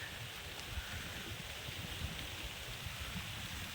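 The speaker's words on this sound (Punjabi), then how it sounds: "ਠੰਡੀਆਂ ਠੰਡੀਆਂ ਕਣੀਆਂ ਉੱਤੇ ਪੈਂਦੀਆਂ ਨੇ" Cold rain falling outdoors near rice paddy fields in Punjab during the monsoon, a steady soft broadband patter with light wind rustle, continuous and even throughout, no voices.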